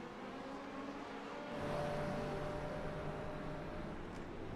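Several LMP2 prototype race cars in a racing game rolling out onto the track at Sebring, a steady broadband engine drone that swells louder partway through, with a faint higher whine on top and no talk.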